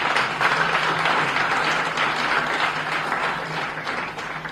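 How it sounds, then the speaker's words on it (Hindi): Children applauding at a government school event, a full, steady burst of clapping from a crowd that holds at a strong level throughout and tapers slightly at the end. "प्यारे बच्चों, तालियां इस बात के लिए आप सबकी तरफ से होनी चाहिए"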